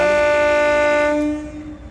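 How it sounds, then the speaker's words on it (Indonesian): A train horn sounds as a train departs Rancaekek station, a loud, sustained tonal blast about a second long that fades into low rumbling. "Kita tunggu ya kereta ini"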